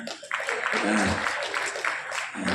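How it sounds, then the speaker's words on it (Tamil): Audience applause at a Tamil film press event, a steady wash of many hands clapping that swells mid-way and carries on beneath a voice at the front. "கொஞ்சம் கை தட்டிடுங்க"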